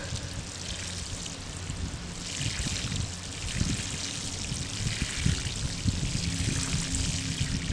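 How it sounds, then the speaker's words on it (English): Water pours steadily onto freshly planted lavender in garden ground, a continuous close splashing trickle that runs unbroken for several seconds with no voices over it. "I'm just going to water this one right now"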